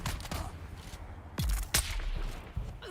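A grenade blast goes off in a first-person shooter video game, with two sharp, heavy booms in quick succession over a steady backdrop of scattered gunfire and rumbling battle noise.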